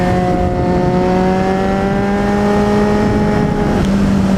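Kawasaki Z800e motorcycle accelerating out of a corner, a steady loud engine note rising gradually in pitch as it pulls, with a brief dip near the end, heard close up with wind noise and no talk.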